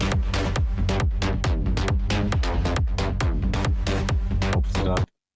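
Electronic dance track with punchy drums, hi-hats and melodic synths, processed with Ozone Imager multi-band stereo widening, playing loud and dense until it cuts off abruptly near the end.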